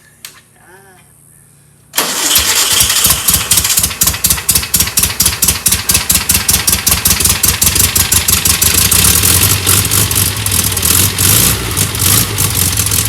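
An engine that had seized cranks and catches after a short quiet pause, then settles into a loud, rough idle with a steady pulsing beat close by.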